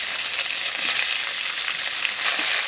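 Chopped onions hit hot mustard oil already seasoned with bay leaf, whole garam masala and cumin, giving a loud, steady, close sizzle that crackles evenly throughout with no voices.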